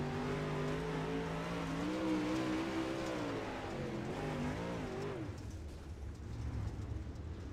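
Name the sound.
race car engine revving and tires, sim racing video game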